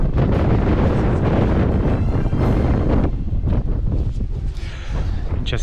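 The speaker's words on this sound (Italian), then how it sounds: "comincia a sentire il vento, mi sa che su in vetta tira forte" Steady roaring mountain wind during a snowstorm on Monte di Canale in the Sirente group buffets the microphone throughout, a dense low rumble that eases slightly partway through before gusting again.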